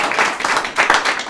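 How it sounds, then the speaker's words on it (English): A press conference crowd gives a round of applause, heard as short bursts of clapping that swell and dip across a brief stretch. "So a big round of applause for them."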